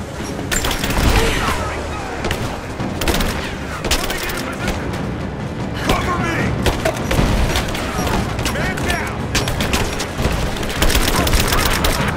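Sustained heavy gunfire fills a video-game firefight in abandoned mines, with dense rapid shots and booming blasts from a grenade, loud and continuous, with shouted voices mixed in.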